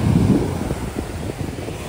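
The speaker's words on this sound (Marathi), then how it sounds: "तोंडवळी समुद्र किनारा." Wind buffets the microphone over surf at Tondavali beach in Malvan, with a steady low rush of waves and gusts close and fairly loud.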